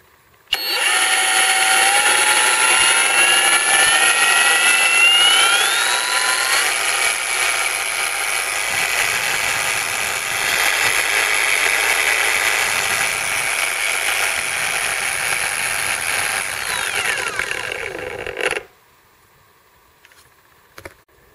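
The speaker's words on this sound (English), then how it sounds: "this is a random orbital polisher" A Kobalt 6-inch variable-speed cordless random orbital polisher runs steadily for about eighteen seconds, a loud, close, high-pitched whine whose pitch shifts early on, then cuts off abruptly into quiet.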